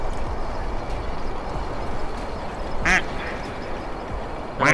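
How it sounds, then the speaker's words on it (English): Ducks in a duck video game give two short quacks, the second near the end, over a steady rushing background of river water. "bunch of ducks."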